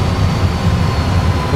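An Airbus A320 in a full flight simulator, with engine thrust briefly raised to around 50 percent: a steady, loud, low engine roar and broadband rush with no talking.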